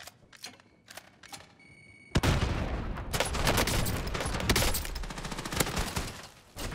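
A Streetsweeper shotgun in Call of Duty fires in a busy exchange: several loud, sharp blasts come in quick bursts among other gunfire and clatter.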